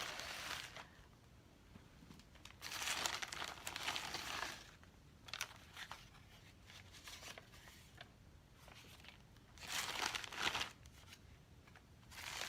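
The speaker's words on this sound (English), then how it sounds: "I'm unwrapping it" Crinkly plastic or paper packaging being torn and unwrapped from around a skein of yarn, with bursts of rustling and crumpling that come and go close up, louder around the middle and again near the end, no talk.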